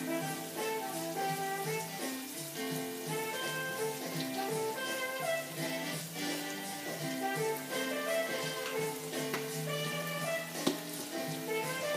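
Cumin and turmeric sizzle with onions in a pan for Ethiopian cabbage, a steady low frying hiss that runs unbroken and fairly quiet throughout, with no talking.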